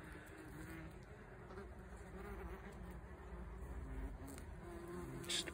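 Eastern yellowjackets buzz around their nest inside a cinder block wall, a steady, close, continuous insect hum that swells slightly toward the end, with no voices.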